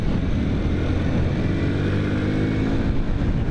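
A 1997 Honda C90 Cub ridden through its gears on a windy day, small engine droning steadily in second gear under heavy, continuous wind buffeting close to the microphone.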